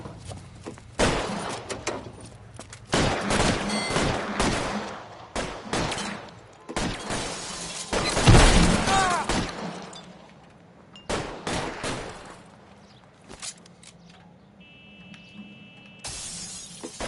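Dense bursts of gunfire in an L.A. Noire firefight, rapid shots and volleys with glass shattering, loud and chaotic, coming in clusters with brief lulls between them.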